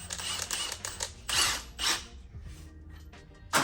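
A spring compressor being tightened on Honda Civic Type R suspension while fitting Swift springs, giving short bursts of ratcheting and clicking metal, close and uneven, with brief pauses between turns.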